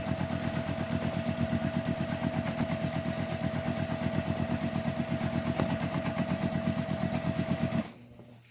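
Sewing machine running steadily through free-motion quilting, a fast, even needle chatter with a constant hum, close and loud, stopping abruptly near the end.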